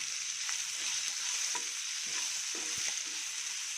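Onions and green chillies frying in a pan, a close, continuous sizzle with scattered stirring scrapes and clinks of a spoon against the pan, no talking.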